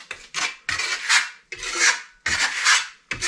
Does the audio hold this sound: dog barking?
no